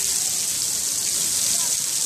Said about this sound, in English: It's pouring pretty hard.